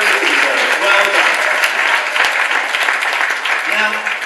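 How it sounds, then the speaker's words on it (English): Dense applause from an audience at a 2018 care-sector awards ceremony, a loud continuous rush of clapping with faint voices mixed in, lasting several seconds. "Give yourself a round of applause."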